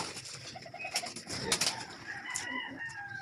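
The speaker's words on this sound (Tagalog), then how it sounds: "ang mga ibon natin, kung makita nyo, ayan, nagwawala na" Birds, including pigeons, coo and call restlessly while waiting for feed, with repeated short calls and a rustling, fluttering bustle up close, and no talking.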